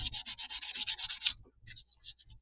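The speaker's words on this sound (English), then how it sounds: "There is some glue on the sides of these frets that I'm sanding off with the 400 grit." Sanding glue off the sides of guitar frets with 400 grit paper on a semi-hollow electric guitar: quick, close scratchy back-and-forth strokes in a steady rhythm, pausing briefly before a few lighter passes.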